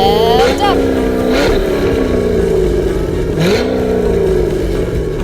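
Loud, close dirt track race car engines rev and rise in pitch, with repeated climbing whines over a continuous roaring rumble.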